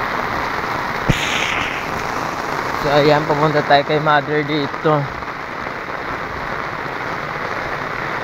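Heavy rain pours in a steady hiss during a flood, with someone speaking briefly over it partway through.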